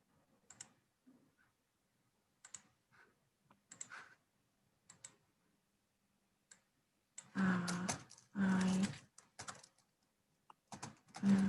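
Typing on a computer keyboard during an online English lesson: sparse, faint single key taps spread out at first, then two louder dense bursts of clicking near the end, with no voices.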